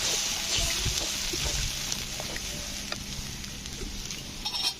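Reserved jackfruit boiling water poured into a hot pan of cooking spices for a vegetarian jackfruit curry, a steady close hiss and gush of liquid meeting the pan with faint sizzling throughout.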